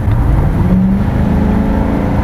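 A 2008 car with a drive-by-wire throttle body revs steadily and loud up close, a continuous engine drone with rising pitch and no voices over it.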